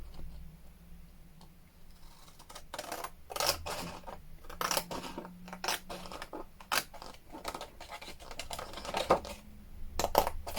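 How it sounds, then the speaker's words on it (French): Scissors cut paper by hand to make the flaps of a pocket folder, sounding as a series of close, crisp snips and clicks in irregular bursts, with no voices. "Donc, déjà, on va découper cette partie."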